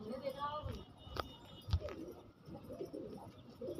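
A pigeon coos softly a few times close by, low and throaty, amid faint background noise and murmuring voices.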